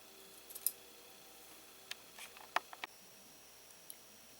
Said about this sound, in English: you are going to cut each square into half at an angle to create triangles